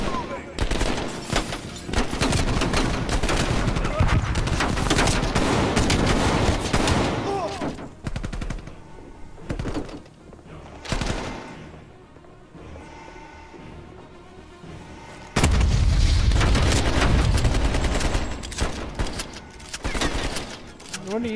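Gunfire in Call of Duty Black Ops Cold War, with dense bursts of rapid shots and loud impacts that drop away midway and then surge back hard, with voices talking over parts of it.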